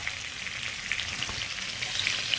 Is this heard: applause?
no